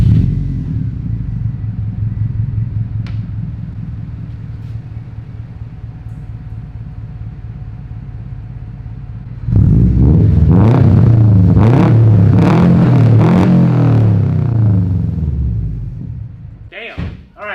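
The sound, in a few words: Subaru WRX STI engine warm start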